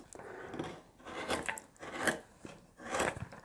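A spoon gouge carving wood on a scratch-built guitar, producing repeated rasping scrapes in uneven strokes, each rising and fading over about half a second, close and fairly quiet with no talk.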